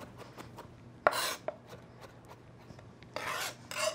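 Garlic rasped against a grater for shrimp scampi, a few short scratchy strokes in quick bursts separated by quiet clicks and gaps, close and fairly faint.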